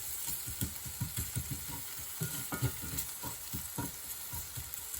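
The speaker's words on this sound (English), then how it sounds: "I'm just going to put a little bit more coconut oil to fry that in" Allspice fries in coconut oil for an eggplant shrimp coconut curry, a quiet steady sizzle under soft, irregular stirring scrapes and taps from a utensil in the pan.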